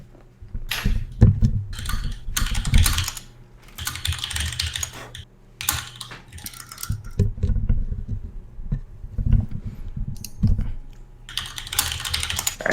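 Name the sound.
computer keyboard typing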